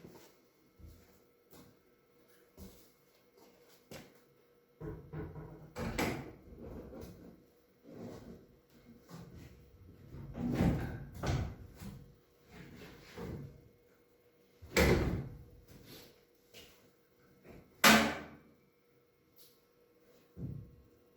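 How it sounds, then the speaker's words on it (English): A car door on a backyard coupe build is handled and fitted back into its opening, producing a series of irregular metallic clunks and knocks separated by quiet pauses. "Okay, so I'm going to fit that door back into the opening."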